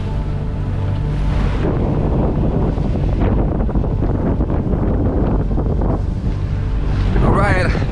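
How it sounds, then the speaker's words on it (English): Steady, loud wind roars across the microphone while sailing in the Swedish archipelago, with rushing water and waves beneath, continuous throughout. "the wind in my sails and steep sea cutting through the waves"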